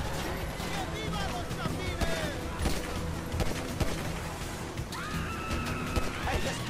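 Gunfire from the video game GTA V, scattered bursts and crashes sounding through busy game audio while players talk over it.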